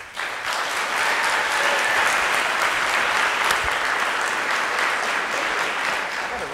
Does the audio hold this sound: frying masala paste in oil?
no